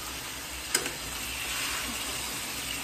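Chicken frying in a kadai and being stirred with a spatula, giving a steady, even sizzle with one brief metallic scrape near the start.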